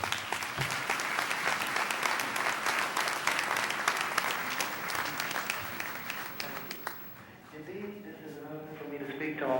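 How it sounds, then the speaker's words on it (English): Loud, dense applause from an event audience fills most of the stretch, then fades out and gives way to a voice speaking. "brothers and sisters, give a round of applause"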